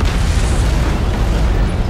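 An antimatter charge exploding aboard a ship in the video game Halo: Combat Evolved, a loud, sustained deep rumbling blast filling the whole moment with heavy low roar.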